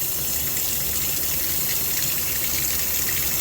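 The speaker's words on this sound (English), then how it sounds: "there's your rinse, let it drain out" Rinse water drains steadily out of an orchid pot during flushing, a continuous close, loud rushing gush with no pauses and no voices.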